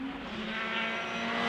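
A WRC rally car races flat out on a tarmac stage at the UAC Easter Stages Rally, its engine a steady, loud, high-pitched drone that holds for the whole short stretch with no break.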